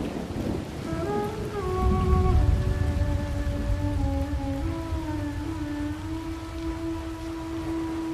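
Rain pours steadily in an animated children's show, a dense hiss with a low rumble like distant thunder beneath sustained, gliding musical tones.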